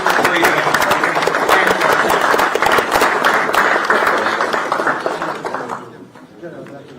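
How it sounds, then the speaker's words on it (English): An audience at a national security conference panel applauds in a dense, loud burst that holds steady for several seconds and then fades out. "Another round of applause."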